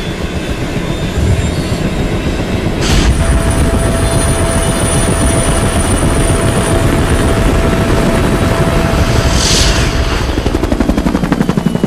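A rescue helicopter airlifts an injured woman to hospital, its rotor and engine roaring loud and steady throughout, with a brief burst of added noise midway and no talk.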